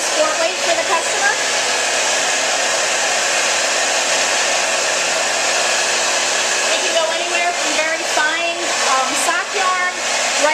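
Wool roving being drafted into single ply yarn on a spinning machine at a fiber mill, giving a steady, loud whirring mechanical drone with light rattles and faint squeaks that rise near the end.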